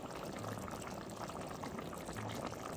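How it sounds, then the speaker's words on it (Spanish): Curry sauce bubbling steadily in a pot on the stove, a soft continuous simmer with faint gurgles and no talking. "Yo lo voy a dejar que hierva otro poquito más"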